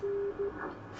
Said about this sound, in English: There's Morse code